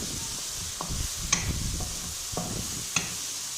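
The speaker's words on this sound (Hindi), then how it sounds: "ये बैंगन हमने इसके अंदर डाली और इसको हम चम्मच की मदद से अच्छी तरह हम मिक्स" Eggplant roasted over a stove flame being stirred with a spoon into a hot tomato-onion masala for bharta: a low steady sizzle under repeated soft stirring scrapes and two light metallic clinks against the pan, close, no speech.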